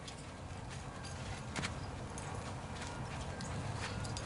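A pony's hooves clip-clop on the ground in a steady, continuous rhythm of moderate loudness during a horse training session, with no talking over them.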